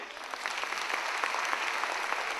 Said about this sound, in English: Can we have a small round of applause for this?